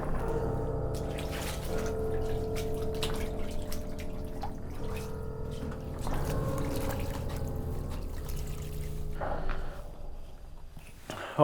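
Rainwater pours and drips into a basement during heavy rain, a faint, steady trickle and splash with scattered drips and a few footsteps or knocks nearby.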